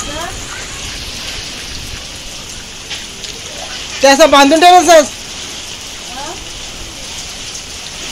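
Steady unseasonal rain pours down on a Konkan village, a constant hiss of drops on surfaces; a few people talk briefly over it midway.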